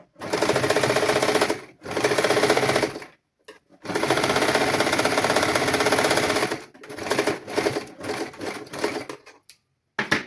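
A sewing machine runs a straight seam on a baby girl's summer dress, loud close stitching in long bursts with short stops, ending in a few stuttering starts.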